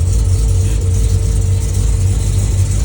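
Cadillac CTS-V with a deep, steady engine rumble as it pulls off, a loud, continuous low drone holding through the whole stretch without clear revving peaks.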